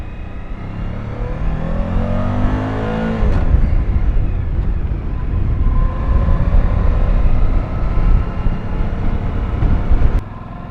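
A motorcycle engine drones hard and steady while riding at speed in 120°F heat, with a gear shift and rising revs midway and heavy wind rumble throughout.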